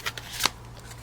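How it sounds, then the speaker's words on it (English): A brief, crisp riffle of tarot cards being shuffled, with a few quick papery flicks building to one sharper burst in the middle, close and fairly quiet. "before we start the shuffle for the next part of it"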